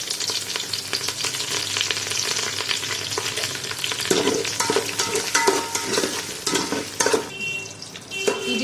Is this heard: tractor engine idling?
no